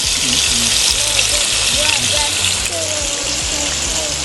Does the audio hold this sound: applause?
no